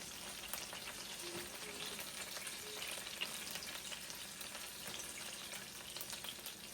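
Burger bread pieces fry in a hot pan with a steady, even sizzle and faint crackle, continuous and fairly quiet with no voices.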